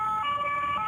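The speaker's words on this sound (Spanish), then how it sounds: "Escuchamos también las sirenas" Police car sirens wail on Paris streets during the Notre Dame Cathedral fire, a steady tonal siren heard at moderate distance over a low street rumble, no talk.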